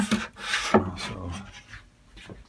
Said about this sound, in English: You can see I'm doing a little filling and sanding right there